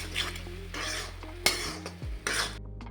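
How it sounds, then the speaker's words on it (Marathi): Tomato paste for pav bhaji fried in oil in a pan and stirred, giving scraping spoon strokes and clinks against metal over a low sizzle, loud and close. "ही छान अशी पेस्ट आपल्याला परतून द्यायची आहे तेल सुटूस्तोवर"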